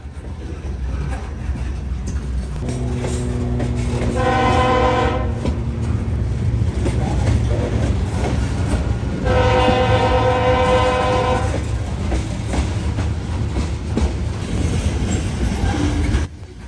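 A CSX-powered unit train rolls past with a continuous heavy rumble of locomotives and cars, while the horn sounds two long, loud blasts over the passing noise.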